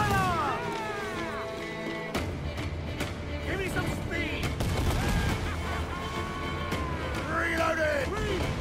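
Ship cannon fire during a naval battle in Assassin's Creed IV Black Flag, booming shots in a dense, continuous barrage over crew shouting, with people talking throughout.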